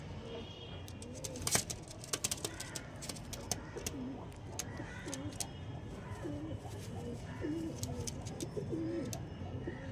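Several pigeons coo softly and continuously nearby, low rolling calls overlapping, with occasional light clicks and flutters in the background.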